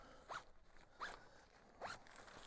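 A tent door zipper is pulled in three quick, quiet strokes with short pauses between them and no talking.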